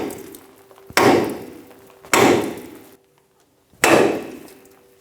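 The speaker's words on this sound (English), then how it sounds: "We're going to hit right here with a hammer and try and shock it and make it pop up." A hammer strikes a steel steering knuckle on a 2000-2006 Toyota Tundra to shock the ball joint loose. Three sharp, loud metallic blows land about a second apart, each ringing out and decaying before the next.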